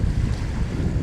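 Very strong wind on a hot summer day at sea near Saint Petersburg, a loud, continuous low roar buffeting the microphone, with the rush of waves blended in and no voices.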